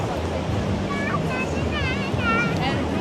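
Ocean surf and wind on Seminyak Beach in Bali, a constant rushing wash with gusty microphone rumble, and faint voices and whistling tones drifting through the background.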